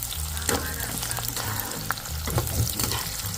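Tamarind and adamant creeper pickle ingredients sautéing in hot oil, with a close, steady crackling sizzle and irregular stirring scrapes throughout, no voices.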